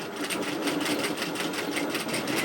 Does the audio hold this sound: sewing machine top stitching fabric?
yes